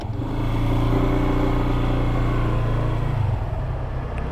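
A Yamaha Nmax 155 ABS Connected 2020 scooter, fitted with a quiet ACG starter, starts and settles into a smooth steady idle, close by and fairly loud, with no talking.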